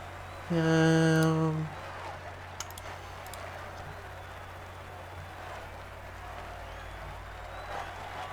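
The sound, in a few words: roadside crowd cheering in video game Pro Cycling Manager 2015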